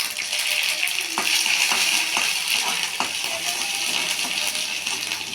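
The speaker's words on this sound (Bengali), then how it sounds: "টমেটোর চাটনির জন্য শুকনো লঙ্কা ফোড়ন দিয়েছি, সর্ষে আর পাঁচ ফোড়ন দুটো মিলিয়ে হচ্ছে ফোড়ন, আর একটু আদা।" Dried chilli, mustard seeds, panch phoron and ginger tempering in hot oil for tomato chutney, producing a dense continuous close sizzle with small pops and crackles throughout.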